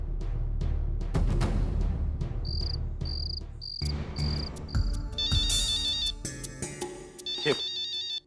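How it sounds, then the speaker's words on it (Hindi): A phone ringtone beeps in a repeated electronic pattern, then shifts to a warbling melody, over a busy background with music and ambient noise. "ये रौनक का ही फोन है"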